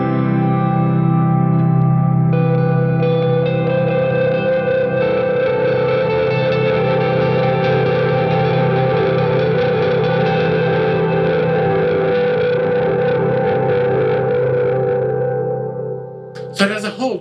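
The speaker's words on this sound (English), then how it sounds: "on the other two, let's go for the hold reverb" A guitar pedalboard runs a hold reverb, with a dense sustained wash of distorted, chorused tone ringing on at steady loudness before fading and breaking off at the end.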